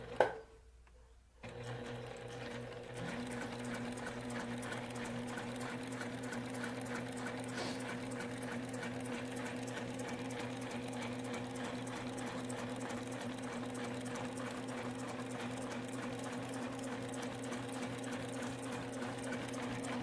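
A sewing machine quilts a basted cat bed in a long, steady run of fast rhythmic needle clatter after a brief knock and pause at the start, close and even throughout.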